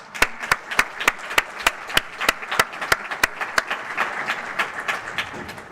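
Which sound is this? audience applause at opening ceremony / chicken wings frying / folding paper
audience applause at opening ceremony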